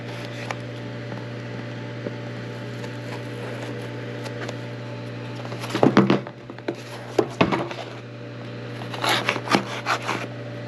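A sharp Kershaw knife cuts open packaging holding M1 carbine magazines: a few short scraping, slicing rustles in separate bursts over a steady hum, with no talking.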